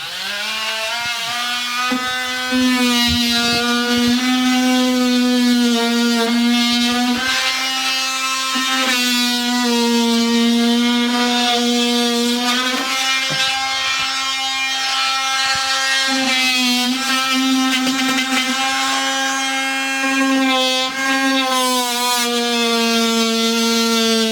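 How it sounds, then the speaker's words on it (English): An oscillating multi-tool cuts out a section of drywall with a loud, steady, high-pitched buzz. The pitch sags slightly as the blade loads and then recovers, running almost unbroken for the whole stretch. "get yourself a multi-tool and we're going to cut it out"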